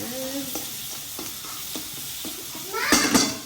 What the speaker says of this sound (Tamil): இந்த வதங்கி வர இந்த டைமில் கொஞ்சம் உப்பு சேர்த்தோம்னா கொஞ்சம் நல்லா வதங்கி வரும்